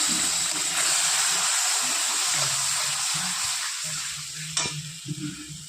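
Mustard and dried red chilli spice paste, for a rohu fish curry, sizzles and hisses loudly in a pan after water is added, with a spoon stirring and scraping through it in uneven strokes close by.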